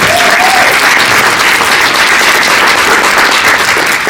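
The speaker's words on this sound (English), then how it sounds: "I think that deserves a round of applause." A large convention audience at Star Wars Celebration Europe 2023 applauds a live panel, a loud, close, continuous roar of clapping hands with a faint whoop near the start.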